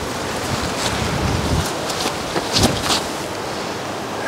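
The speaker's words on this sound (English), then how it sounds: "now there's a big wind" Strong gusty wind buffeting the microphone on an outdoor disc golf course, a steady rushing roar with louder gusts and a few faint knocks, no talk.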